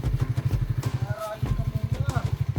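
A newly acquired motorcycle idles nearby with a steady, rapid thumping pulse that drops out briefly and then resumes, while people talk over it.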